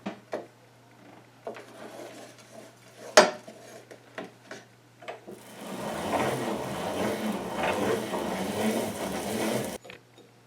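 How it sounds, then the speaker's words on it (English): Scattered clicks and knocks are followed by a steady mechanical whirring as soaked dal is ground for dhal pholouri, the rough grinding noise holding for several seconds before stopping abruptly. "as we are grinding our dal here so that it gets mixed in"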